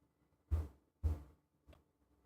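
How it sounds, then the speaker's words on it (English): Three dull clicks or knocks spaced about half a second apart, close and fairly soft, with the last one quieter, otherwise near silence. "I also just heard clicking sounds."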